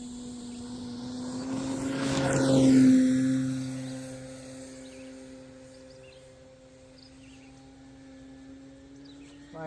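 RC Extra 330 model airplane flying along a tree line, its propeller whine swelling as it passes close overhead, then fading into a thinner, distant buzz with a falling pitch.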